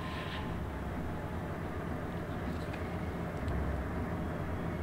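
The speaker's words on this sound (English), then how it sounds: "Fighter ready for takeoff." A carrier fighter plane taking off in World of Warships, heard alongside a Yamato battleship, gives a steady, fairly quiet, broad engine drone that holds evenly throughout without pause.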